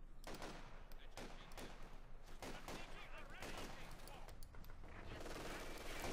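MG42 machine gun fire in the World War II strategy game Company of Heroes 2, rattling in repeated bursts amid other distant battlefield shots, fairly faint beneath a mixed din.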